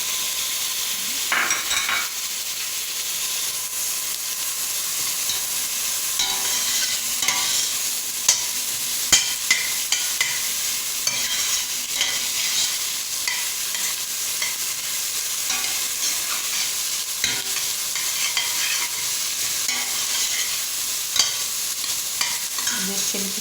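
Garlic and bell pepper fry in a pan with a steady hiss and crackle close by, broken by occasional stirring scrapes and small clinks, and there is no talking.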